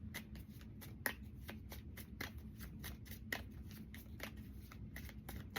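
Tarot card deck being handled: a dense run of quick, crisp card flicks and shuffles in a steady rhythm, close and fairly quiet, with no speech.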